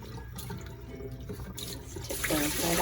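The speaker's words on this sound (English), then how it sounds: "So as I run the water and it starts to overflow, it's just dumping" Tap water runs into a bowl of sprouted lentils and overflows, carrying off the floating hulls. It makes a close, continuous splashing gush that grows louder and brighter toward the end.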